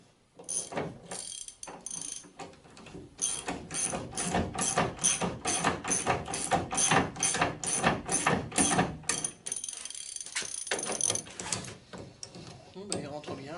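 A control arm bushing on a car's front suspension is pressed in by tightening bolts, giving a long run of quick ratcheting clicks from a wrench, close and steady, with someone talking at times.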